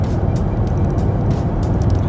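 A Volvo XC70 after an engine remap, cruising in sixth gear on cruise control at 130 km/h. Steady, dense road and engine roar with wind noise, loud and unbroken, with no voice.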